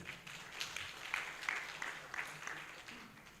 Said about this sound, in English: Let's give Professor another round of applause.